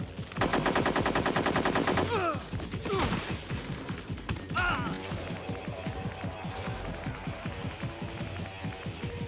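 Bursts of automatic gunfire crackle through Metal Gear Solid 3, dense rapid rattles up front giving way to scattered shots and clatter over a constant game soundtrack.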